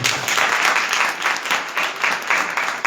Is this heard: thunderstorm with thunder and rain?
no